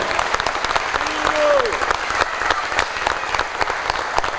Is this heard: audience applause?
yes